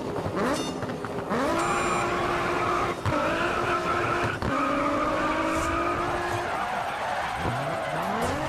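A car in the GRID Autosport racing game drifts with sustained tire squeal over a loud revving engine, with pitch sweeping up and down as it slides through corners.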